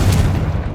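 The Confringo fire spell in Hogwarts Legacy detonates as a single heavy, booming blast, loud and close, with deep low rumble filling the short moment.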